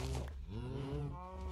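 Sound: cows mooing in Minecraft video game

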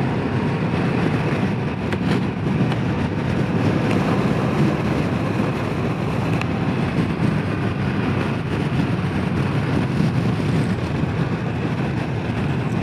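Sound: wind buffeting while riding a Harley-Davidson CVO Pan America

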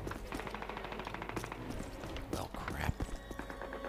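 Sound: gunfire in the video game Call of Duty

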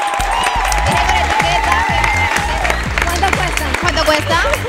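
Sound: audience applause and cheering

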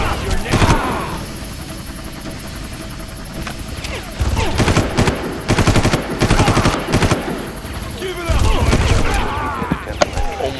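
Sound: gunfire in the video game Far Cry

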